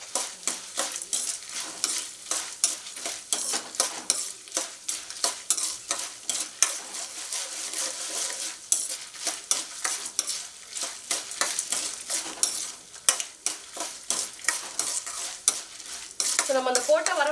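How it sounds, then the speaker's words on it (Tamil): Dried red chillies fry in oil for a Tamil pulikaichal, tamarind paste; a spoon scrapes the pan in quick, uneven strokes over a soft, close sizzle, with no talking. "நம்ம அந்த போட்ட வரமிளகாவும் பார்த்தீங்கன்னா நல்லா வந்துட்டு பொரிஞ்சிருச்சு"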